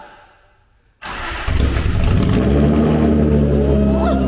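A car engine with a Tomei exhaust cranks and roars to life after a second of quiet, settling into a loud, rumbling idle with a harsh, throaty exhaust.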